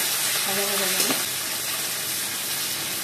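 Onions and chilies frying in a pan give a steady, close sizzle throughout, with a brief tonal squeak around one second and no talk.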